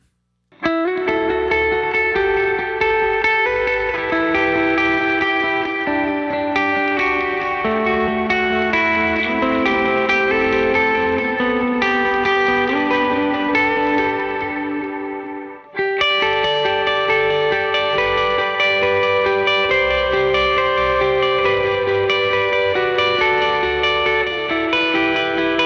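An effects-laden electric guitar runs through Meris Mercury X and LVX pedal presets with reverb, playing sustained shimmering notes higher up the neck with lush washes and echoes, one brief cut midway before the tone resumes.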